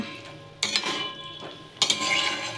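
A metal pot of duck egg curry is lifted off a gas stove, giving two sharp clanks of metal on metal, each followed by a short rattling scrape, close by with no talking.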